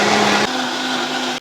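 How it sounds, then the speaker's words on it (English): A mixer blends garlic, onion, spice mix, beef stock and apple cider vinegar with the lid on, a loud steady whirring drone that drops in pitch partway through as the load settles, then stops abruptly. "Straight into the mixer. We're going to blend that until it's smooth"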